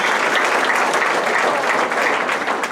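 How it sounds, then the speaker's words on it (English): Steady, dense applause from a graduation brunch audience at Mayville State University, loud and continuous with no voices standing out. "we better give a round of applause for that"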